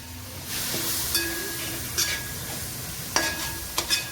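Curd is spooned into sizzling masala in a pan for prawn biryani, giving a steady close frying hiss broken by several sharp metallic spoon clinks and scrapes, no voices.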